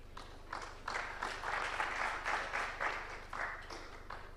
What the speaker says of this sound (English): A round of applause again for him.